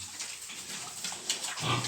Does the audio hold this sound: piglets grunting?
yes